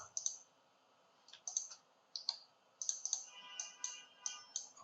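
Keys clack on a computer keyboard in short bursts of a few strokes with brief pauses between, crisp and close in an otherwise quiet room.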